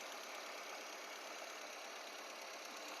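A 2007 Maruti Zen car engine runs at a steady, even idle, a continuous close hum with no voices over it.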